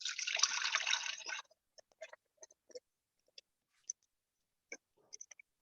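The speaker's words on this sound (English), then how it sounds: "And I'm just going to pour it over the sieve." Homemade oat milk pours through a sieve in a steady liquid rush for over a second, then stops, followed by scattered faint drips and small trickles at close range.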